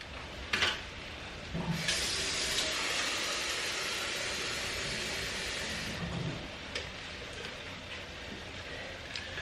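Kitchen sink tap running water into a nearly empty spaghetti sauce jar, a steady hissing gush for several seconds with faint clinks at the start and end.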